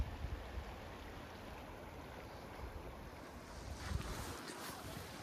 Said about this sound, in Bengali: এখানে জলের ফ্লোটা এতটাই স্মুথ এতটাই স্মুথ মানে একটা খুব সুদিং একটা আওয়াজ আছে এই জায়গাটা থেকে